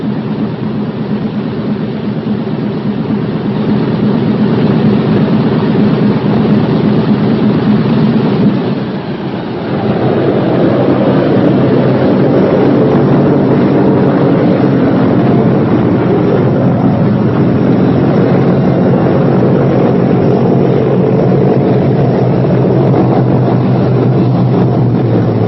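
Engines of a B-17 bomber running on the ground, a loud, continuous droning roar that dips briefly and then settles into a slightly different steady tone.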